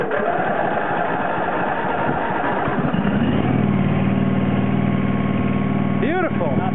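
A riding lawn mower, unstarted since before winter, runs steadily at half throttle with choke in a cold start, its engine drone close and loud, with some whine, and speech heard over it.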